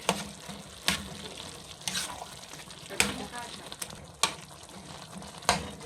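Ground pork frying and being stirred in a pan, a steady sizzle broken by periodic scraping clatters of a utensil every second or so, with occasional faint talk.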